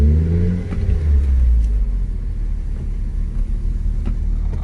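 A car with a turbo engine, fitted with a Sparco steering wheel and Works Bell quick-release kit, idles then rolls forward, its engine falling from a brief rev into a steady low rumble with faint clicks.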